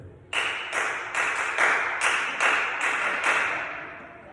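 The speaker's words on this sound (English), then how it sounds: "The claps that work. It gets the attention." A run of about eight sharp hand claps in a steady, even rhythm, the kind used to get a classroom's attention. The claps are close and fairly loud, with no talking.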